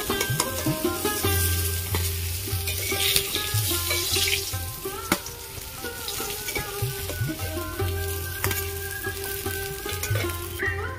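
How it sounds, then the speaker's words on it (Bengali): Koi fish sizzles and crackles steadily in hot oil, with occasional clinks and scraping of a utensil stirring the pan. "বাকিগুলো ভেজে নেব।"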